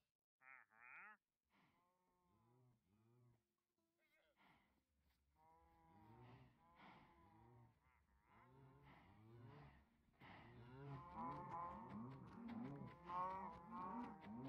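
Cows mooing in Minecraft, several repeated low lowing calls, sparse at first and then denser and overlapping toward the end, with quiet background tones.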